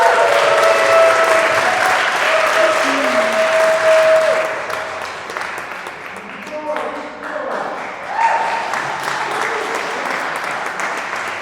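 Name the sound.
audience applause for poet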